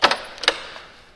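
A 1967 Mercedes 280 SL Pagode car door shuts twice in quick succession with sharp, solid thuds, then a third firm slam a moment later, close by and clear.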